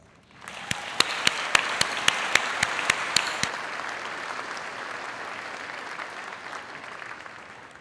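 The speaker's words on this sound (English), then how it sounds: "I think they get a double applause for this." Sustained applause from the audience at a university fall commencement ceremony, a dense crowd of clapping that rises quickly, carries a few sharp claps early on, and continues steadily without speech.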